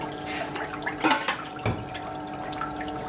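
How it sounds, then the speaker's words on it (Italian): Water poured and stirred with yeast in a Roman pizzeria while starting Neapolitan pizza dough, a brief close slosh and splash with a couple of louder stirring surges, with no talking. "Lo mischiamo con l'acqua"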